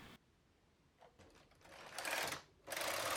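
A knitting machine carriage slides across the needle bed in a row, a faint close mechanical whirr and clatter that swells in two louder sweeps with a brief pause between.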